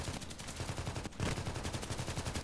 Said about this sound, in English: Is he shooting from here?